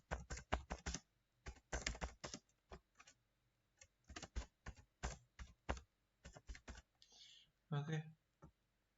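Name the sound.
typing on a computer keyboard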